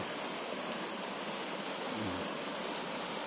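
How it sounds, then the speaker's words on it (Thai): Cool stream water flowing steadily outdoors, a dense continuous rushing wash with no pauses, close and fairly loud throughout. "น้ำไหลเย็นไม่ธรรมดา"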